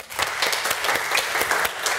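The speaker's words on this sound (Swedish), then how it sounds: "Och ska vi ge han en applåd?" A brief burst of applause fills a municipal council meeting, with many hands clapping at close range and individual claps standing out for about two seconds.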